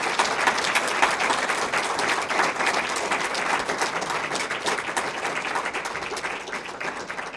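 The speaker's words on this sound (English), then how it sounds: "I'd say they really deserve applause now" Sustained applause from an audience at a county commission candidate forum, dense steady clapping filling the room at an even level throughout, with no speech over it.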